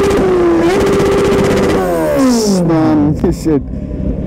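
A Kawasaki Z800 motorcycle fitted with an Akrapovic exhaust idles and then revs, its engine note rising and falling through several close, loud throttle blips, with someone speaking over it.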